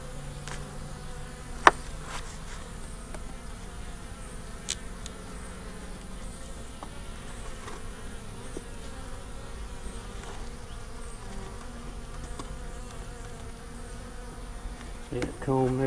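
Bees drone in a continuous low, faint buzz inside a top bar hive, with a few scattered brief knocks and clicks over the steady hum and no clear talking.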